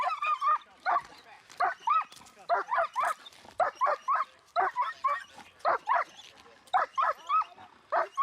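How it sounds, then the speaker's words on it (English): A police K9 dog barks in rapid, loud bursts close by, repeating in an insistent rhythm throughout with short pauses between volleys. "I'm gonna send this dog in there!"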